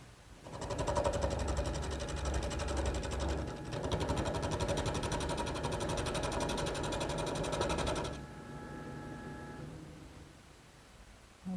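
A wood lathe spins a long, thin chair-part blank with a steady rest attached, turning it round; a steady mechanical whir with a rapid tick runs for about eight seconds, then drops to a quieter hum as the cut stops.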